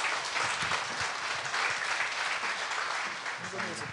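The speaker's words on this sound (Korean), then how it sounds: "우리 고정석 선교사님 나오실 때에 우리 힘찬 박수로 맞이하겠습니다." A church congregation applauds loudly to welcome a missionary to the front, a sustained, dense clapping that holds steady throughout and fades slightly near the end.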